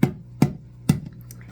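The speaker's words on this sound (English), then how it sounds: "Sorry for the noise. My child is literally playing with watering cans, whatever makes him happy." A child playing with watering cans, three hollow knocks roughly half a second apart, close by, followed by faint scattered clinks.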